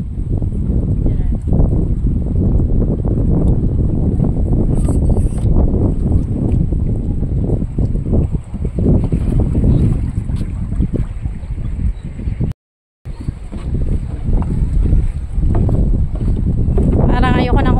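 Strong beach wind buffets the microphone in heavy low rumbling gusts, with a brief dropout midway and a voice faintly present beneath the roar.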